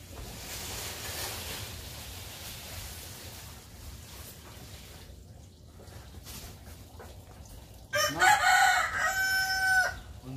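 Chickens cluck faintly over a rustling outdoor background on a farm plot, then a rooster crows loudly and close by near the end.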